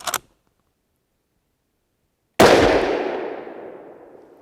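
A single 7.5x55 Swiss rifle shot firing Hornady SST bullets cracks out loud and close after a brief quiet, its sharp report trailing off in a long echoing decay; a small click or pop comes just before.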